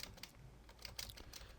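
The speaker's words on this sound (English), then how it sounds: "I'm just going to type in some navigation menu links" Quiet typing on a computer keyboard, a close, irregular patter of soft key clicks with a few sharper taps, steady and faint with no voices.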